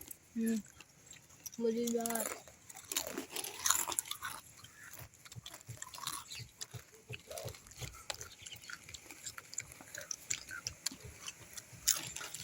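Crisp papdi crunched and chewed during a party, with repeated close bites and munching under background chatter and voices.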